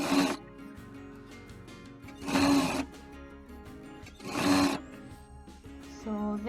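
A sewing machine stitching a pocket on linen pants runs in short bursts, three clear rattling runs separated by quieter pauses, close and moderately loud.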